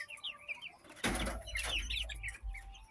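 Chickens on an organic farm cluck and chirp close by, with a sudden loud burst of wing flapping partway through and steady low farmyard noise underneath.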